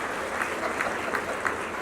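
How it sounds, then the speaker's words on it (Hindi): Audience clapping at a yoga event, a steady, dense burst of applause from a crowd that carries evenly through the short moment without voices over it. "दोबारा ताली हो जाए"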